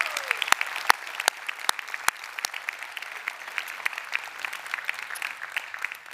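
A conference audience gives a round of applause: scattered sharp individual claps at first, then a continuous steady patter of many hands, fairly quiet and distant throughout.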